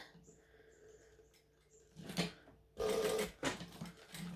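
Sewing machine stitching a fabric wristlet with a D-ring or O-ring attachment, a soft close whirring hum in short bursts with brief handling pauses, fairly quiet.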